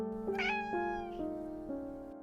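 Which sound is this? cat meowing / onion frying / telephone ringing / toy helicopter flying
cat meowing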